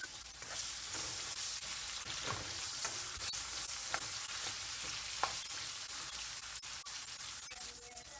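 Onion sautéing with garlic in a hot pan, a steady close sizzle and hiss with occasional stirring scrapes, no talking.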